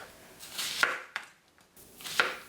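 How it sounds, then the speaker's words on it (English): Knife slicing through fresh strawberries on a cutting board while trimming and quartering them, a few sharp chopping taps spaced unevenly, close and fairly quiet. "you're gonna take 4 ounces strawberries, and you're gonna trim them and quarter them until you get about 1 cup"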